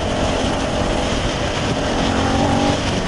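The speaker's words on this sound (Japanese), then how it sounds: "V 型独特の加速ですね" A 2017 Suzuki SV650 motorcycle with a high-revving 650 cc V-twin engine accelerates while being ridden. The engine gives a loud, constant, close drone with a steady pitch under broad road and wind noise.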